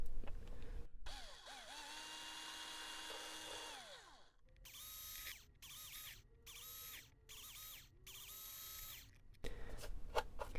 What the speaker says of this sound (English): I could just use a pin vise, very, very soft wood, but I'm just going to go ahead and use my drill.